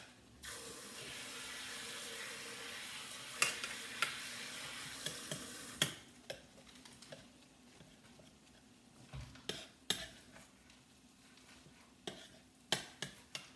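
Running water from a kitchen tap rushes steadily while green onions are washed under it. The stream then cuts off and gives way to scattered clatters and splashes in the sink.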